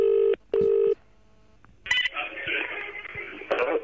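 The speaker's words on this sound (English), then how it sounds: "I'm going to have to give him a quick call." A telephone number is dialed with DTMF keypad tones, two loud beeps in quick succession, followed after a pause by a burst of ringing or line noise from the handset.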